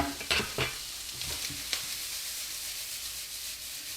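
Pieces of meat cook in a pan with a soft, continuous sizzle. A few quick scraping clinks from turning the meat come early on, then an even frying hiss with no talk.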